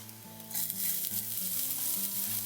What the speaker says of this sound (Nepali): मैले चाहिँ त्यो तेलमा चाहिँ थोरै जिरालाई फुटाउँछु, काटेर राखेको लसुनलाई र थोरै काटेर राखेको अदुवालाई पनि एड गरिदिन्छु